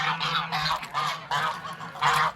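Several geese honking repeatedly at close range in a wintry farmyard, harsh nasal calls overlapping in quick bursts over a faint steady low hum.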